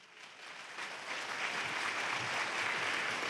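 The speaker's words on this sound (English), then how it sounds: "So let's give a round of warm applause for Mr." Audience applause at a lecture swells into a dense, steady wash of clapping from many hands, building slightly louder over a few seconds.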